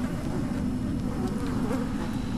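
Flies buzz steadily in the survival horror game Amy, a dense droning hum that fills the scene without a break, close and even, with no talk over it.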